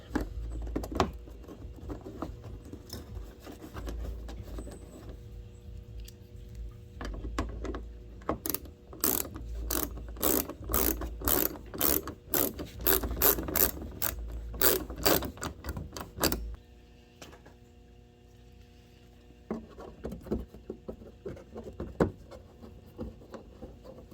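A ratchet clicks rapidly in repeated bursts while screws are driven back into place in a garage, close and fairly loud over a low background hum, then settles into quieter handling noise.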